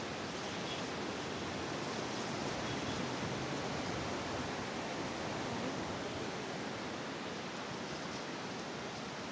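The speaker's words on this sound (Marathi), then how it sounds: "नदी वाहते." A river runs beside a roadside walkway in Manali with a steady, unbroken rushing wash of water that stays even from start to finish.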